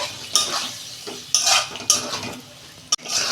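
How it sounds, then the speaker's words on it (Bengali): Ridge gourd and potatoes being stir-fried in a pan with salt, a spatula scraping and clinking against the metal in several short, close strokes amid a soft sizzle. "এই যে ঝিঙেটা দিয়ে দিচ্ছি ঝিঙে আলু দু মিনিট আমি আর একটু কষাবো"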